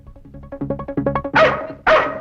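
A dog barks in a quick run of about a dozen short yips, then gives two louder, fuller barks close by, with no talking.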